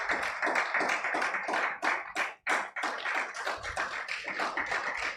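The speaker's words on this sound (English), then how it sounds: "Thank you very much for sustaining the applause." An audience at a business panel event gives sustained applause for a speaker, many hands clapping in a dense, even wash that briefly dips in the middle before swelling again.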